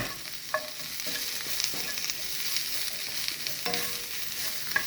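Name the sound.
bok choy and chicken of the woods stir-frying in pan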